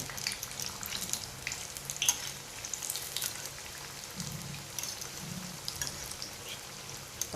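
Suran (elephant foot yam) bhaji fritters frying in hot oil, a soft continuous crackling sizzle with scattered pops and spits, fairly quiet and close.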